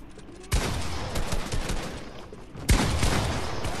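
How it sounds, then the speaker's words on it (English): Video game gunfire in a 2v2 match, two bursts of rapid loud shots, the first running about two seconds and the second starting abruptly after a short quieter gap. "Why y'all both shooting me, bro?"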